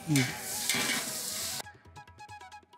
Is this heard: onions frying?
yes